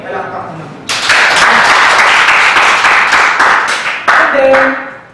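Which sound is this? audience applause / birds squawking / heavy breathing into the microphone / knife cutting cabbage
audience applause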